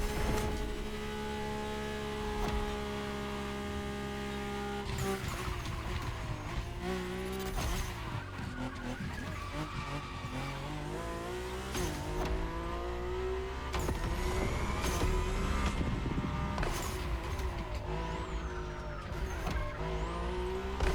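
A Mercedes-AMG One races in The Crew Motorfest, its engine note climbing and dropping through repeated gear changes, with sharp bursts and tire squeal over a loud, constant mix of game sound.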